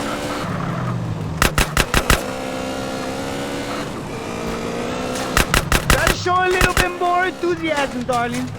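Gunfire in GTA San Andreas: bursts of rapid shots around 1.5 and 5.5 seconds over steady car engine drone, with whining engine and tyre sounds near the end.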